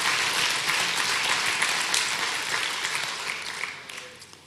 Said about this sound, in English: let's give the Lord a great big praise clap